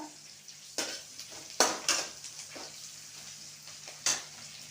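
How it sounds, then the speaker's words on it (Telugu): Onions frying in a pan with green chillies and fresh curry leaves, a steady soft sizzle broken by several sharp scraping stirs of a utensil against the pan, close and moderately quiet with no talking. "ఆనియన్స్ కూడా ఫ్రై అయిపోయినాయి"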